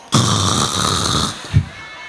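A voice imitates loud snoring, a single long rasping drawn-out snore filling most of the moment, ending with a short snort, heard alone without other talk.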